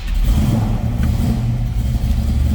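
A 1968 Chevrolet El Camino SS with dual MagnaFlow exhaust idles while warming up, its engine a loud, close, steady low rumble that holds without pause.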